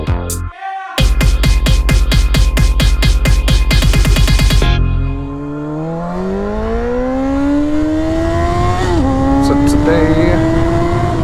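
Honda CBR sport bike engine running: a fast rhythmic pulsing idle that cuts off, then a loud, steady engine tone that slowly rises and falls in pitch.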